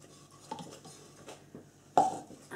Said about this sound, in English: So just mixing it all in. Obviously stainless steel utensils because we are using the lye.